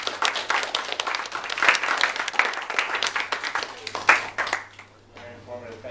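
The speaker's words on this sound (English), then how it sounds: "Can we give it a round of applause?" Audience applause rings out after an air quality and transportation environment talk, a dense stretch of overlapping hand claps that fades near the end, with a steady low hum underneath.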